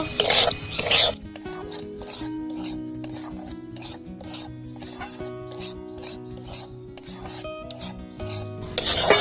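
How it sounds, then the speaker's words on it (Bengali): Semolina is stirred and roasted in a pan with a few cardamom pods. A steady scraping rasp runs throughout, louder at the start and the end, with no talking. "সুজিটা লালচে করে ভেজে নেব"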